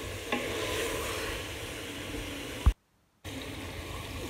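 Goat meat and masala fry in a pan for aloo gosht shorba while a spoon stirs through it, giving a soft continuous sizzle with scraping, a sharp clink near the end and then a short silence.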